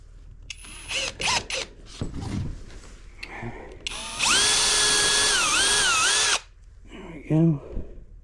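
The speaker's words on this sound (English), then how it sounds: "We're going to drill these holes." A power drill bores holes in wood for a Christmas woodworking project, one loud steady whine lasting about two seconds with pitch dipping under load, set between short bursts of handling and tool clatter.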